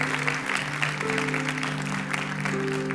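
Church congregation applauding together in a sustained wash of clapping, with a steady organ or keyboard chord held underneath throughout.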